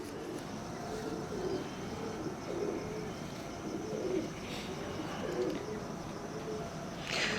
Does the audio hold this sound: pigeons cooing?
yes